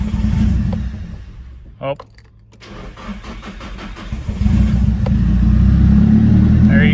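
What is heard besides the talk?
vehicle engine starting and revving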